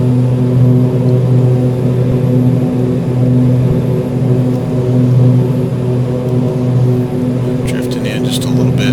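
A simulated airplane engine in Prepar3D drones loudly and steadily on approach as power is added, with a strong tonal hum swelling slightly; brief clicks near the end.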